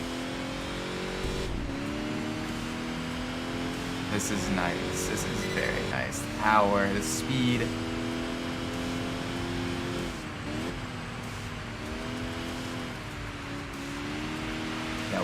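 A car engine in the Enthusia Professional Racing video game revs and shifts through gears, with rising and falling pitch sweeps and a brief burst of turbo noise, while someone talks over it.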